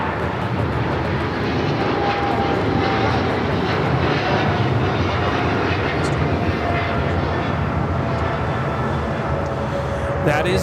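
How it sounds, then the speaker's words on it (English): A British Airways Boeing 777-300ER takes off from Los Angeles airport with a loud, steady jet roar that stays broad and constant throughout, with no clear rise or fade. "That is British Airways 282 taking off to London Heathrow on the 777-300ER."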